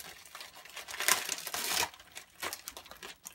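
Close crinkling and crackling of plastic as a sealed military MRE bag is pulled and torn open by hand, with two louder bursts of ripping amid the rustling.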